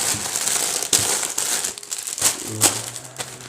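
Parcel packaging crinkles and crumples as it is pulled open, a continuous rustling with sharper crackles, close and fairly loud, with no talking.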